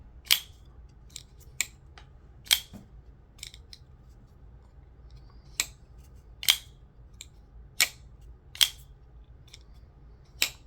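A Rike S05 V2 folding knife flicked open by its flipper tab and snapped closed again and again, crisp metallic clicks in irregular bursts, close and loud over a quiet background.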